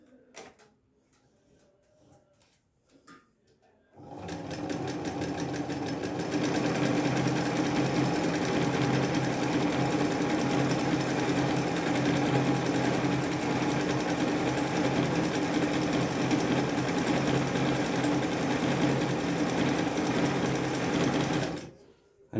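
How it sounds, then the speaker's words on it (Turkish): A Singer Felicita sewing machine stitches steadily in a fast, even mechanical whir with rapid ticking. It starts after a few quiet seconds and runs loud and unbroken for nearly twenty seconds before stopping abruptly. "Dikkat ettiyseniz tıkır tıkır dikiyoruz bir saattir"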